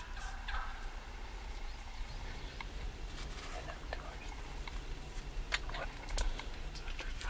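Wild turkeys gobble in a field during a spring hunt, the sharp gobbles standing out above a steady outdoor hiss, with low whispering nearby.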